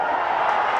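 Crowd cheering at a Davis Cup tennis match, a loud, continuous roar of many voices that stays steady and close for the whole brief moment.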